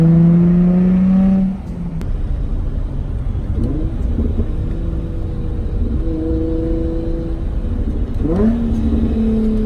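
A Nissan 350Z engine drones while driving, loud and close. The rev rises and falls through gear changes, with a drop in pitch just after the start and another climb later on. No talking.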